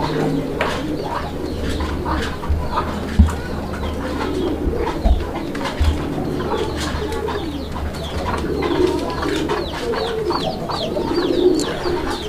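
A pair of Raj Golla pigeons coo steadily and repeatedly up close, their low throaty calls layered over one another with faint background chatter.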